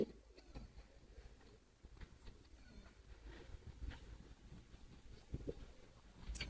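Soft, low pigeon coos come in a few quiet bursts against faint background ticking and shuffling.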